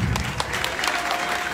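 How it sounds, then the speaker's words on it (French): Audience applause for Serge Gassi at a live gathering, a short burst of dense clapping with a few sharper claps, fairly close and continuous under a faint murmur. "Il faut l'applaudir."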